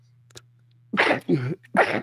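Three short, explosive sneezes in a row, close by, after a faint earlier click, with quiet hum underneath.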